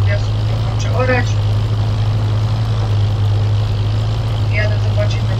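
A tractor ploughing a field drones steadily and continuously at close range, a deep even engine hum with brief voices faintly heard over it.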